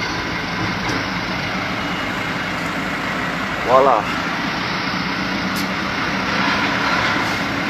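Trucks and a container trailer idle in a traffic jam on a toll road toward the Bekasi Barat exit after a single-vehicle accident, giving a steady low engine hum throughout; a man briefly exclaims midway.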